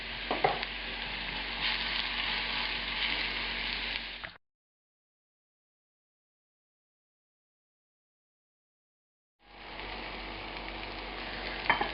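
A batch of mushrooms frying in a pan for a Viennese creamed mushroom appetizer, crackling and sizzling loudly, then cutting to silence for several seconds before the sizzle resumes.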